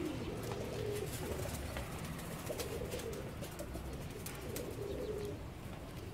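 A breeder pigeon coos in soft, repeated throaty phrases over a steady hiss of background noise, close by and fairly quiet.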